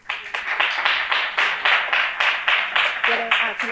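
Rhythmic audience clapping at a startup pitch event, steady evenly spaced claps at a moderate pace, with a voice starting to speak near the end.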